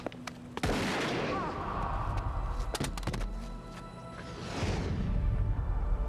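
A gunshot in a TV drama crime standoff: a sharp loud blast at about 0.7 seconds, with further sharp cracks near 2.8 seconds, heard amid tense ambient action noise without speech.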